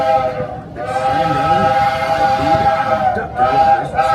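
A loud, sustained steam train whistle chord sounds close by on the Walt Disney World Railroad at Magic Kingdom, breaking briefly and resuming, over the rumble of the running train.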